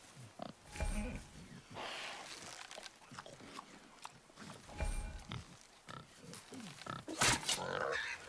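A boar in the video game God of War grunts and snorts in short bursts amid game combat sounds, with some speech.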